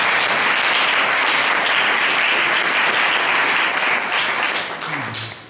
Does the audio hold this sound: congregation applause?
yes